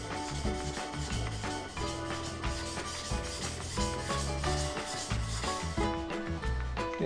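A deba knife is worked over a 400-grit whetstone in a steady, continuous run of close rubbing strokes, a dense gritty scrape that carries bright squeaky tones and holds at an even loudness throughout.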